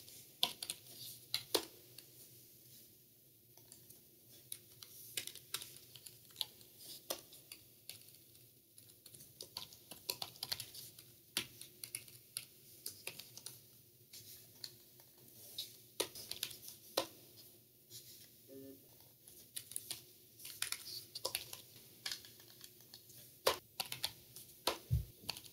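Quiet, irregular keyboard typing while writing code in VS Code, with bursts of key clicks and brief pauses, close by and without speech.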